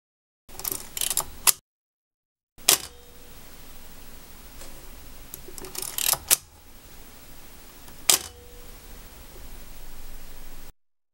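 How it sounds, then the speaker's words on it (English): Yashica FX-D Quartz 35mm SLR firing its shutter, a sharp mechanical clack heard several times in close, quiet isolation, with brief bursts of mechanism noise between the firings. "the shutter can be fired using the shutter release"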